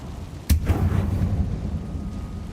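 One sharp blast from the Confringo explosion spell in Hogwarts Legacy, a loud thump followed by a rumbling, crackling tail that lingers under ambient game sound.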